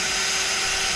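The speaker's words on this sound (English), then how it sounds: "we can start drilling our holes" A power drill with a 1/8-inch bit bores a pilot hole in the bed of a 2016 Ram 2500 truck, a steady high whine held at close range with no breaks.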